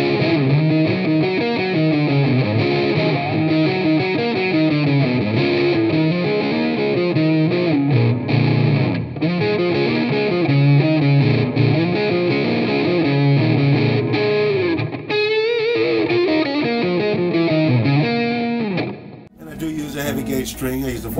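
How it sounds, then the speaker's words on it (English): Heavily overdriven electric guitar strung with 14 to 56 gauge strings, played through an SL model heavy overdrive distortion pedal, ringing out loud and sustained chords and riffs for about twenty seconds before cutting off abruptly near the end. "So they provided me with this SL model distortion pedal."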